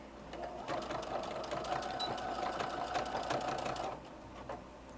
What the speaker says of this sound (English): all you're going to do is just sew down this edge